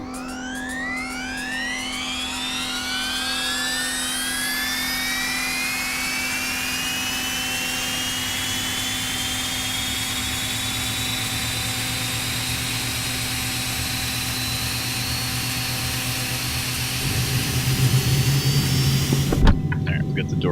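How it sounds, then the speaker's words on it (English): Twin jet engines of an Eclipse 550 spool up in X-Plane 11 as a steady hum under a rising turbine whine that climbs in pitch, then a louder, rougher rumble joins near the end. "Let's get the engines fired up."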